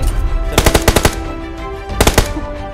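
In a shooting video game, two loud, close bursts of rapid automatic gunfire ring out, each a quick string of sharp shots, separated by a short pause.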